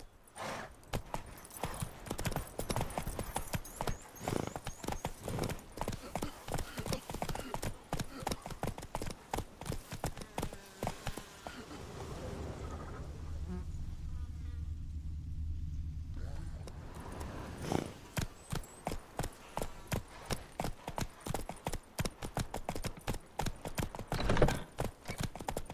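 Roach, the horse in The Witcher 3, trots with a rapid, regular clip-clop of hooves throughout. The pace eases briefly midway, and voices speak over parts of it.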